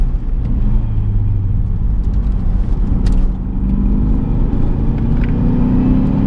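A Cadillac CTS-V V2 engine roars steadily and builds in pitch as it accelerates out of a corner, loud and close, with a constant deep rumble throughout.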